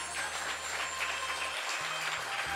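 Audience clapping during a devotional talk on Ekadashi, steady and fairly soft applause with low musical tones droning underneath throughout.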